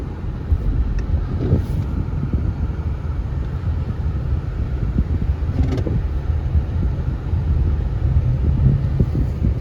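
A 2004 Lexus LS 430 sits idling, its engine giving a smooth, quiet, low hum that stays steady and continuous, with faint cabin and wind noise around it and no talking.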